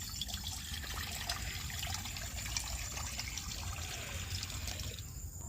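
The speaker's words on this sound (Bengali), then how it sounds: "কড়াতে আমি জল দিয়ে দিচ্ছি।" Water poured into a kadai (cooking pan) set on a lit stove, a steady soft trickle heard fairly close, low and continuous for several seconds with a slight rise near the end.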